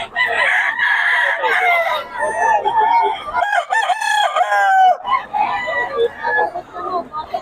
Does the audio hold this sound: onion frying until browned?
no